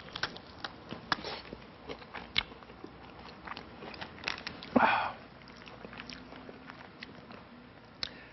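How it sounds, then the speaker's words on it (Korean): Seasoned fried chicken is bitten and chewed up close, with soft crunches and chewing sounds interspersed with sniffs and one louder burst midway, no talking. "이번에는 양념치킨을 한번 먹어보겠습니다"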